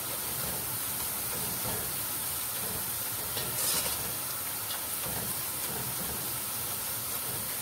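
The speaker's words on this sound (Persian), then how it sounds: "پیاز ما کم کم داره به اون مرحله ای که سرخ شده میرسه" Onions fry in a pot with turmeric, giving a steady, continuous sizzling hiss that stays even and close throughout, without speech.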